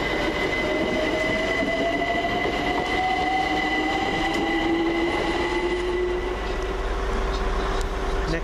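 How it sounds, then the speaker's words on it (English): A London Overground Class 378 electric train, unit 378216, runs past at Gospel Oak. It makes a loud, continuous rumble with wheel squeal and rising tonal whines throughout. "378216. With the 1431 London Overground service from Stratford to Richmond."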